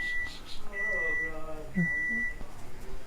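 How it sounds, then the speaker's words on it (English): A microwave oven beeps three times in short, evenly spaced tones while people talk quietly in the background. "he doesn't hear that the microwave is done"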